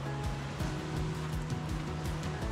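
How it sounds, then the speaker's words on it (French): The Tendon waterfall in the Vosges, a steady broad rush of falling water heard continuously, with a faint rhythmic low thudding underneath and no talking. "c'est hyper facile d'accès, c'est la cascade de Tendon"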